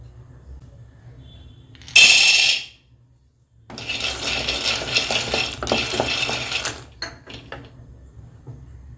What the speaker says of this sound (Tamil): வேர்க்கடலையை வறுத்துக்கலாம்.